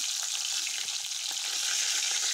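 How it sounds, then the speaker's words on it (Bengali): Bata fish frying in oil with chili, salt and turmeric gives a loud, continuous crackling sizzle throughout, with faint stirring underneath. "তারপরে এখন লাল লাল করে ভেজে নিচ্ছি"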